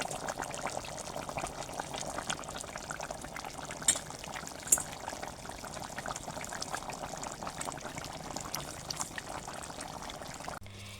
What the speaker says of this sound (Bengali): তরকারিটা এখানে ফুটে উঠেছে